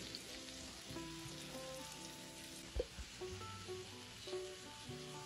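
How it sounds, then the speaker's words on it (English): Sauce simmers and caramelizes in a pan with a faint, steady sizzle and scattered soft pops, heard close but quiet beneath a thin thread of background music. "Let it cook for about 3 to 4 minutes. We're just trying to get them caramelized"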